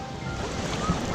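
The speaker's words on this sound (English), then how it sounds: "These are real waves." Waves in the Blizzard Beach water park wave pool wash and churn in a close, continuous rush of water with wind buffeting the microphone, and no talk over it.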